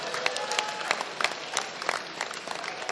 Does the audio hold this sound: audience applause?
yes